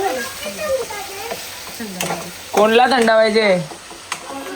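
Hot oil sizzles loudly in a pan during a home birthday cooking session, a continuous close crackle with bursts of stirring, while people talk over it throughout.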